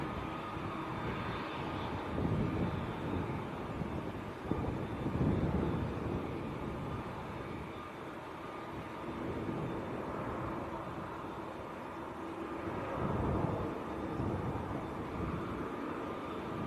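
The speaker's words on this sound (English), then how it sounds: "KLM's about to taxi out." A KLM airliner taxiing at Manchester Airport gives a steady, distant jet engine whine and rumble that swells and eases slightly, with light wind noise across the microphone.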